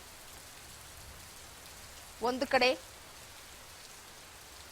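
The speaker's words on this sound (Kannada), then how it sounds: "ಮಳೆ ಮಳೆ ಮಳೆ" Steady rain falls in Bengaluru, giving a soft, even hiss throughout, with a person briefly speaking partway through.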